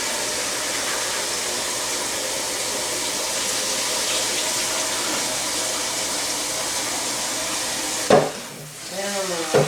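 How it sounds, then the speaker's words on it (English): Beans are whisked around in a pot of water, producing a continuous sloshing swish that stops near the end, followed by a brief clatter and lighter splashing. "I'm going to put them in some water and whisk them around a little bit."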